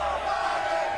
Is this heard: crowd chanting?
yes